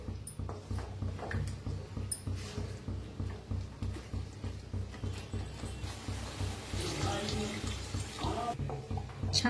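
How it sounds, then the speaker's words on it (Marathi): A little water is poured into a pan of egg curry cooked in green masala paste, a soft splashing and trickling that swells in the second half over a steady low hum. "आणि थोडंसं पाणी ओतते."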